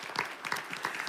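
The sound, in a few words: congregation applause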